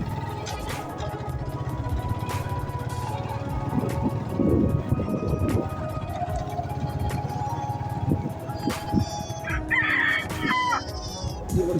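A rooster crows and chickens cluck in a tribal village in Odisha, the crowing clear and fairly near over a steady low hum, with scattered faint background noises.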